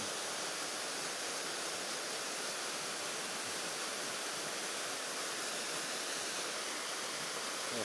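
A waterfall on a small river roars as a steady, dense wash of falling water, even and unbroken for the whole stretch with no voices over it.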